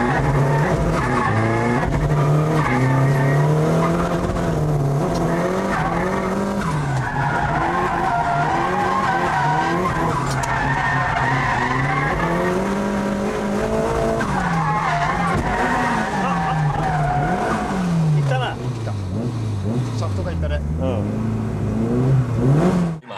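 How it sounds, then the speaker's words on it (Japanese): A car drifts on a new drift course, engine revving hard and rising and falling continuously while tires squeal and skid throughout, loud and close with no talk. "初走行の新ドリフトコースでいきなりドリフトに行くのか。"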